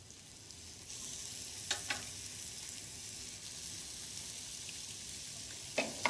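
Beef burgers sizzle in hot oil in a frying pan, a soft, even crackle that swells as they go in, with a couple of brief scrapes from a fish slice, quiet and close.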